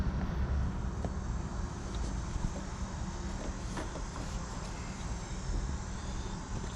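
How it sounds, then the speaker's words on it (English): Heavy trucks rumble past outside during a Mazda MX5 Miata fuel pump job, a steady loud low roar filling the whole stretch with no talk. "Loud trucks going by."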